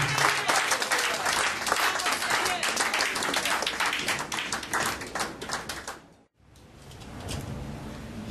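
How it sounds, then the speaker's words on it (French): A church congregation applauds loudly and steadily for about six seconds, the clapping breaking off sharply, then quieter crowd noise and faint voices return. "Applaudissons le Seigneur pour son serviteur."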